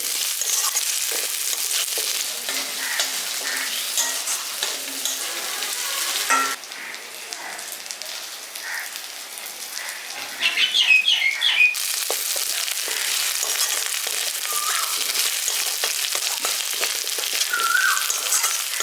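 Potato pieces fry in a pan in a village-style spinach and potato curry, a steady close sizzle with scraping stirs running throughout, one brief quieter stretch in the middle and no talking.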